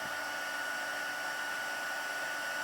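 A handheld heat embossing tool blows hot air in a steady, close, even whooshing roar with no break and no voices.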